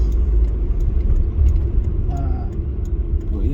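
A rare Alfa Romeo Arna is driven slowly on wet roads, its engine a low, steady rumble with road noise heard from inside the car.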